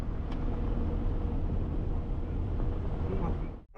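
A car rolls onto a cobblestone road in Ukraine's Sumy region, heard from inside as a continuous coarse rumbling drone with some voices underneath, fading out abruptly at the end.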